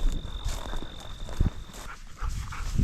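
A hunting dog pushes through woodland cover on a woodcock hunt, giving close rustling bursts and thumping footfalls with a few brief low bumps, loud and irregular, with no talking.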